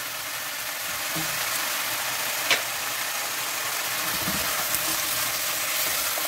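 Turkey pieces frying with red pepper and onion in a pan, giving a steady broadband sizzle throughout with a couple of faint clicks of utensils, close and moderately loud with no talking.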